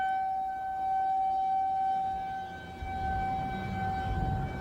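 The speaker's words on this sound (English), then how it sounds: "He is actually hearing tornado sirens go off." Tornado warning sirens wail steadily at a distance near an Indiana highway exit, their sustained tone holding through the whole stretch against low outdoor rumble.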